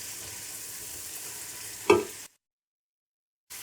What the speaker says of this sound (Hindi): शिमला मिर्च को भी हम इसमें हल्का सा रोस्ट करेंगे।